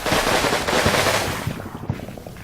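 PPSh submachine gun fire in the Combat Mission Red Thunder war game, rapid bursts of loud automatic shots over a dense battle din, easing off toward the end.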